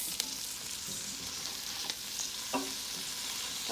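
Eddo leaf bhaji being stirred as it fries in a pot, a soft continuous sizzle broken by several scraping strokes of a spoon against the pot, fairly quiet with no voices.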